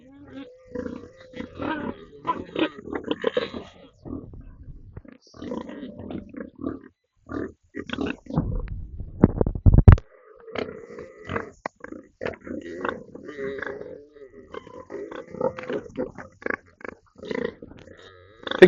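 Pigs on a Costa Rica cattle farm grunt and squeal in close, repeated bursts, mixed with someone talking and shouting over them.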